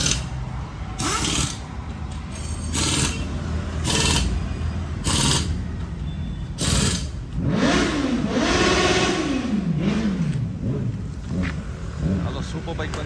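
A Z900 motorcycle engine revs in several rising and falling surges over a rumbling idle, with people talking nearby.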